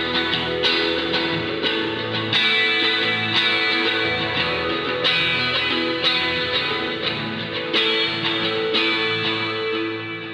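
B section of a Strat guitar part through Rat distortion, delay and chorus, with chords ringing on open strings. Steady strummed chords are freshly struck about every second in a thick, shimmering wash, played alone.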